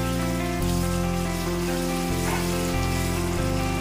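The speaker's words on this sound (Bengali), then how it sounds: "ভালো করে আমি নাড়াচাড়া করে নিচ্ছি।" Paneer dal makhani being stirred in a hot pan makes a continuous, loud, rain-like sizzle with a steady low hum beneath, and no voices.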